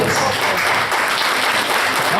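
Audience applauding at a community gathering, dense continuous clapping from a sizeable group, loud and sustained throughout.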